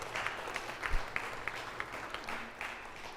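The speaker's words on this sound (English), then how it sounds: "round of Yeah, applause for thank you. Father Clooney." Faint, scattered clapping rises from a small gathering at a Thursday night talk with Father Francis X. Clooney, a thin patter of individual claps against a quiet room.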